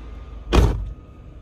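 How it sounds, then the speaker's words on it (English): A single solid thump of a 2003 Toyota RAV4 door shutting, heard close from inside the cabin, followed by quiet. "Let's go ahead and close the door here."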